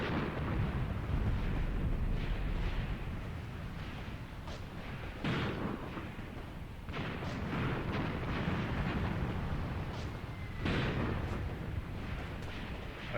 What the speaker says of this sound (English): I can also hear one of my anti-tank guns firing in support